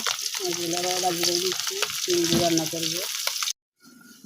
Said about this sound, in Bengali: বন্ধুরা দেখো এখানে আমি সিম তরকারিটা বসাই দিলাম এখন মশলা কষিয়ে নিলাম